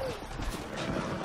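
A stolen horse in the western video game Red Dead Redemption trots with quick, irregular clip-clopping hoofbeats over a low rumble of game ambience, close and moderately loud.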